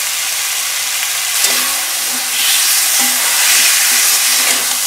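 Chicken coated in spices and salt being stirred in a pan over low-medium heat: a steady close frying hiss with a few soft scraping stir strokes and occasional knocks, no voices.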